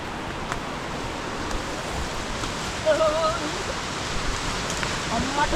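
The Miyunu Ella waterfall near Ayagama, Gavaragiriya, flows in a steady, broad rush of falling water heard from a short distance, with faint voices in the background.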